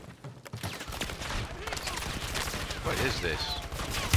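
Rapid, sustained gunfire in a battle-royale video game as players come under fire, heavy overlapping shots throughout, with a voice talking over the shooting.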